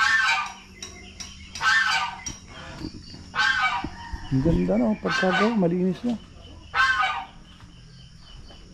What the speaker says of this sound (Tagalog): Meron dyan, pabo.